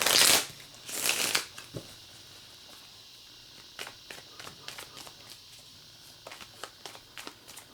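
Tarot cards being shuffled by hand: two loud riffling bursts up front, then a series of softer, scattered card flicks and taps close by.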